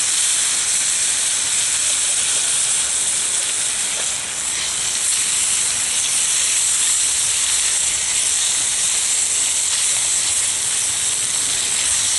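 Bacon frying in a covered pan gives a steady, bright hiss and sizzle, continuous and fairly loud throughout, with no talk over it.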